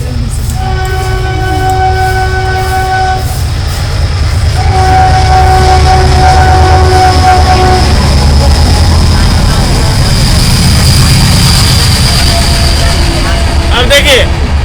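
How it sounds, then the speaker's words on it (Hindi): Freight train passing nearby with repeated horn blasts over a loud rumbling of wagons on the rails, continuous throughout, with a voice talking over it. "ट्रेन चली गई।"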